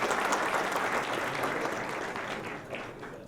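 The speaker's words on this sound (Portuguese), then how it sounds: "Então, o senhor receba uma salva de palmas." Audience applause for a presenter at a national NTU seminar, a short dense burst of many clapping hands that starts full and gradually thins.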